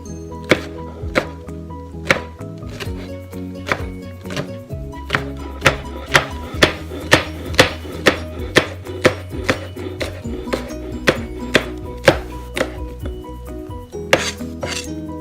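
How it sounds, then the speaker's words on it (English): A knife dices a jalapeno into small pieces on a cutting board, with sharp, fairly regular chops striking in quick succession, close and clear over a low background hum. "let me go ahead and chop up the rest of this jalapeno"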